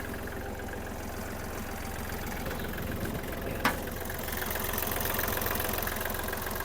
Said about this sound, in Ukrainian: Просто ідеальна робота двигуна.